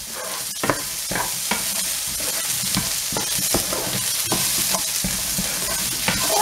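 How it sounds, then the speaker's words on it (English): Garlic and onions sautéing in a pan while a lamb shank with red wine is being cooked, giving a loud steady sizzle punctuated by frequent rhythmic scrapes and knocks of stirring. "We have to saute first the garlic. Oh, smells onion, garlic. And then the onions."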